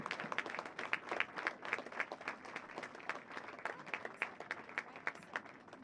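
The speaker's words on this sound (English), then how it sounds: "Let's give these individuals a well-deserved round of applause for all they do for our community." Crowd in the stands at a varsity high school football game giving a sustained round of applause, steady rhythmic clapping heard from a distance across the open field.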